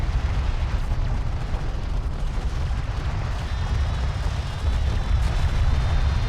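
Armored vehicle under fire in Homeworld: Deserts of Kharak, a loud constant rumble of explosions and gunfire with heavy low thuds rolling throughout, a faint radio-style voice under the battle.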